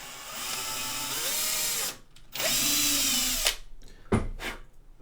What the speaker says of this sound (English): Right, here comes the drill.